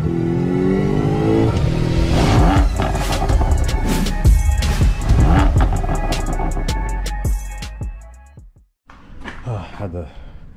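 A C8 Corvette engine starting to drive off, a loud, rising rev and burbling exhaust with sharp crackles, fading briefly near the end before returning at a lower level.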